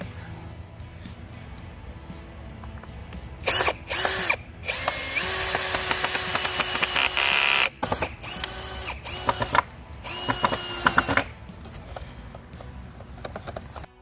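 A power drill drives screws into wood rafters during a backyard build, with repeated loud whirring bursts of varying length separated by short pauses and ratcheting clicks, close to the microphone.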